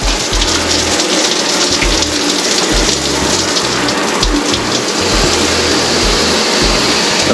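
Water sprays hard and steady from a newly installed rain-style shower head, a loud, unbroken hiss and patter with occasional low thumps, heard alone without talk.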